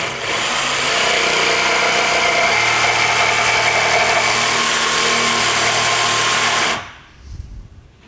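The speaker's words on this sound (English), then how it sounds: "When you're using a jigsaw, you try not to do really tight curves." A jigsaw cuts steadily through a workpiece, a loud, continuous buzzing whine close by that holds for nearly seven seconds and then stops abruptly, leaving a short faint rumble.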